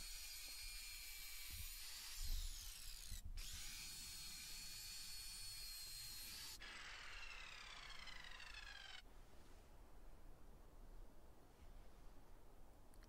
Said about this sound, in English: I cut the front out on the miter saw